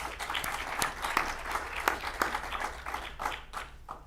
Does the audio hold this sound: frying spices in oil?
no